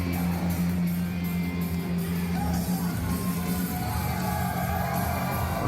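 Wrestling crowd at an independent pro wrestling anniversary show roaring and cheering steadily for the winner after a big splash off the top rope, a dense sustained wash of yells and whoops with a low hum underneath.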